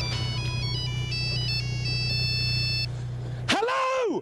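An oversized prop mobile phone from a Trigger Happy TV comedy sketch rings with a loud, tinny melodic ringtone that repeats a stepped tune for about three seconds, then someone shouts over a sudden jump in level.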